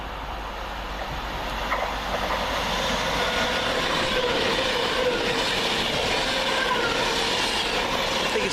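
A Virgin Trains class 390 passes close by at Smethwick Galton Bridge, with a loud, sustained roar of wheels and rail noise that builds after the first couple of seconds and holds steady.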